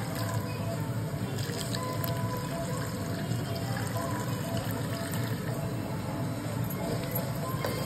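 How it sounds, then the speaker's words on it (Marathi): Milk is poured into sizzling masala for Kolhapur-style matar paneer in a pan, a continuous steady gurgling pour with faint hissing and spoon clinks throughout. "आता या मसाल्यामध्ये दूध टाकतोय ना."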